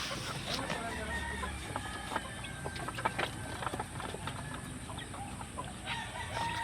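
Backyard chicks and hens peck about, clucking and peeping in scattered, fairly quiet bursts with a few sharper calls, and no voices over them.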